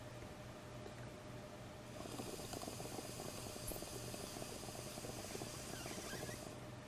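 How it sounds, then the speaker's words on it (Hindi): Air is blown through lime water in a test tube, producing a faint, steady bubbling that starts after a quiet moment and continues without a break until it stops near the end. "जब हम इसमें हवा डालेंगे तो चूने का पानी दूधिया हो जाएगा"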